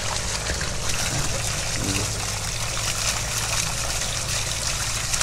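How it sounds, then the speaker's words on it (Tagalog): Strong water rushes and splashes continuously outdoors, a loud, dense, unbroken flow that holds steady throughout. "yung tubig ganun pa rin. Ano pa rin siya, malakas pa rin."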